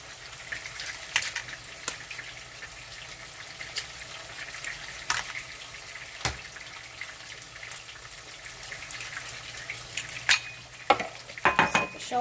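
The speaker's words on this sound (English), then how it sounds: "I'll just leave them here to fry till translucent" Sliced onions frying in a pan ahead of scrambled eggs, with a steady low sizzle and scattered clinks and scrapes of utensils against the pan, close by and alone.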